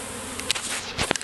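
Small bee swarm buzzing in an open-air setting, a steady faint drone broken by a few brief louder passes of individual bees flying close.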